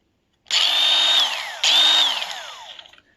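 Dexter Power 18V battery mini circular saw spinning up twice with no load, each burst a sharp rising whine that holds briefly, then winds down, close and loud.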